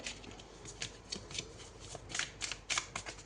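Oracle or tarot cards for an Aquarius horoscope reading, shuffled and drawn in a quiet sequence of soft, quick riffles and papery flicks, close by, with no talking.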